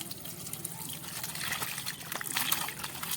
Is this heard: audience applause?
no